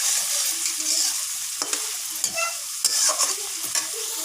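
Stuffed pointed gourds fry in spice paste in a pan, a loud, close sizzle broken by scrapes and stirring knocks, with no talking.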